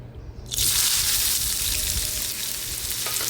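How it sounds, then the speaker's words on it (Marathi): Chopped onion hits hot oil in a kadhai with a sudden loud sizzle that settles into a steady, dense frying hiss, close and continuous, no talk. "कांदा व्यवस्थित परतून घेऊया"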